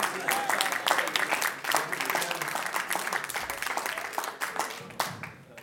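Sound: applause for Philip

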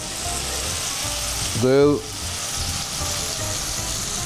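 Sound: food frying and sizzling in a pan while making sauce

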